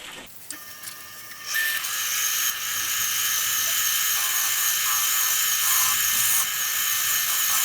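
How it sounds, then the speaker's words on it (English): A high, whining drill with a 6.5mm bit in a Jacob's chuck runs steadily for several seconds, its pitch rising as it bites into wood for a shallow hole and then holding a constant buzzing drone. "I'm just going to drill a shallow hole into the top of it"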